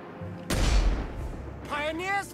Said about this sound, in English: that grenade launcher is nice